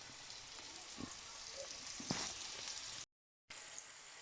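Pork searing in a pan for a Vietnamese pork dish, a soft continuous sizzle with a few small pops and crackles, fairly quiet and close, briefly cutting out near the end.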